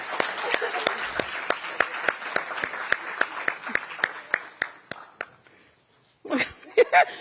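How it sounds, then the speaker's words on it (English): A city council retreat audience of staff gives elected officials a round of applause: dense clapping that starts strong, thins into scattered claps and fades, followed by a few louder close claps and brief talk. "let's give our elected officials a round of applause"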